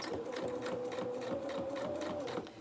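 A sewing machine stitches a dressing gown with a steady, fast pulsing hum that runs nearly the whole time, close and moderately loud, then eases off at the very end.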